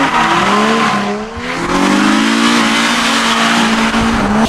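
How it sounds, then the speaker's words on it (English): A car doing donuts around a cone squeals its tires without a break while the engine revs loudly and close by. The sound runs for several seconds, with a brief dip partway through, and no one speaks. "Donuts around a cone."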